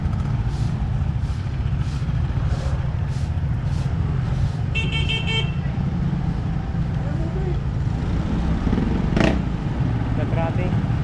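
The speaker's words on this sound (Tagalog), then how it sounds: "Oh, medyo na traffic na konti." Busy street traffic in Santa Ana, Manila: a steady rumble of cars and motorcycles close by, with a short horn toot midway and a louder passing vehicle later, while people talk nearby.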